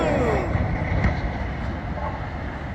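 A freight train with four locomotives rolls loud and close toward a lowboy truck stuck on the tracks, giving a steady rumbling roar with a brief high squeal near the start.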